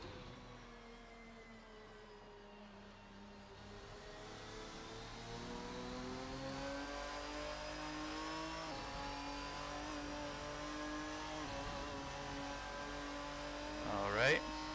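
A race car in the Assetto Corsa racing sim video game, its engine note rising steadily as it accelerates, droning and harmonic-rich with gear shifts, heard at moderate level beneath a voice talking.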